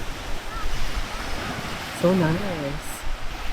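Sea waves wash steadily at Gili Meno island, a broad continuous surf noise with wind buffeting the microphone, while a voice speaks briefly over it near the middle.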